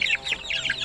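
Basilan breed hen giving a short run of close, soft clucks.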